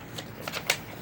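Sheet of paper being handled and rustled while folding a paper ninja star, a few quick crisp crinkles and flaps up close, brief and fairly quiet.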